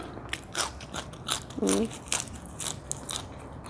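Crisp crunching bites of fried pork rind and kale with spicy Thai papaya salad, several close crackling chews in an irregular rhythm.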